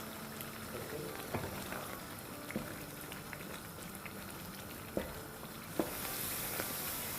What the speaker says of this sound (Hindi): बस अब इसको हाई फ्लेम में इसकी अच्छी सी भुनाई करेंगे